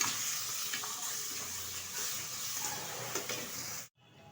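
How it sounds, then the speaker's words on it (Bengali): Spice paste of ground cumin, ginger and chili with turmeric and salt being stirred and fried in a pan for a tangra fish curry, giving a steady close sizzle with light scraping that stops abruptly near the end. "একটু নেড়ে দিচ্ছি"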